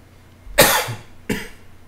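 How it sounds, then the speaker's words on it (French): Two sharp coughs, the first louder and longer, the second shorter, close by against a quiet background. "Excusez-moi vraiment de tousser tout le temps,"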